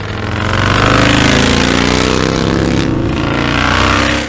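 A 1948 Vincent Black Shadow motorcycle engine runs loud and close, a steady rumbling drone with a slight rise partway through and no voices.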